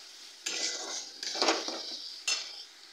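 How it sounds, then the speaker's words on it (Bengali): A spoon scrapes through a ground spice masala of coriander, cumin and red chilli powders being fried on low flame in a pan, in three short bursts of stirring and clinking against the metal, close and fairly soft, no voices. "ভালো করে কষিয়ে নেব মশলাটাকে দিয়ে।"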